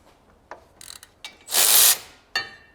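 A ratchet works on the caliper bracket bolts of a BMW E92 M3, giving a few sharp clicks and clacks followed by a loud, rapid burst of ratcheting, then a final click, close up.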